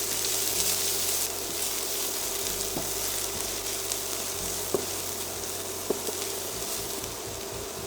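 Chopped garlic and the white parts of spring onions fry in hot oil in a wok, giving a steady, close sizzle and crackle throughout with a few faint stirring clicks.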